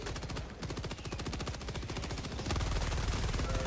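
Rapid automatic gunfire in the video game Helldivers 2, dense rattling bursts that run almost without pause, loud and close, with the firing growing heavier toward the end.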